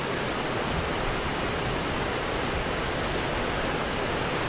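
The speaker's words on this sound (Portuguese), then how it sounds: "Ouça o som da chuva." Heavy rain pours steadily in the town of Amambai, a dense, loud, unbroken hiss with no pauses or voices.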